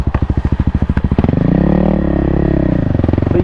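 A 2024 Kawasaki KLX300R four-stroke dirt bike engine thumps at a rapid, even idle, then is blipped into a loud, close, sustained rev that falls back slightly.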